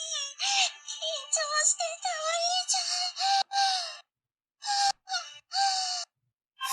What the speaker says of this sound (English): That's a lot of breathing. It's very breathy.